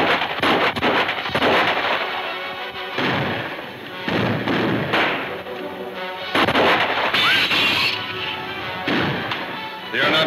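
A volley of gunshots fired over heads in a 1937 western film serial, several loud sharp reports in irregular bursts with echoing tails and brief gaps between them.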